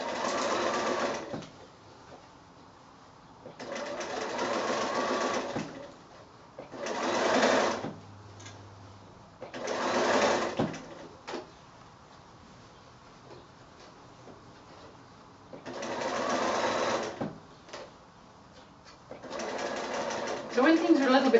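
Sewing machine stitching around a small quilted drawstring bag made from 6-inch squares, several bursts of rapid, close stitching separated by pauses, with a person talking quietly in between.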